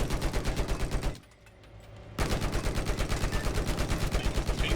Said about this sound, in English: the projectiles do these very weird large explosions